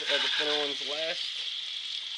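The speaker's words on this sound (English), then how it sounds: "You should still have a nice sizzle." Steady sizzling of turkey meatballs frying in a hot pan, loud and continuous, with a brief spoken line over the start.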